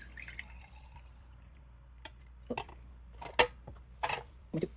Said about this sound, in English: pour my whisk, milk and yogurt into 1 glass jar.